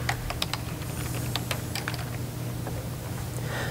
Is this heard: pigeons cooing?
no